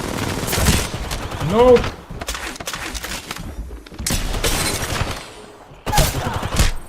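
Gunfire in the video game Free Fire during a tournament match, rapid bursts and volleys of shots in several loud clusters, with a voice talking over part of it.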